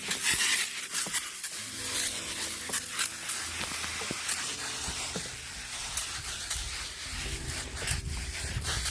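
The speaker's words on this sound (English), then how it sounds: "let's try to get the spray all over the leaves, all over the pumpkin" A soft, hissing spray from a plant sprayer repeats in short bursts over pumpkin leaves against a faint outdoor background, close by and fairly quiet.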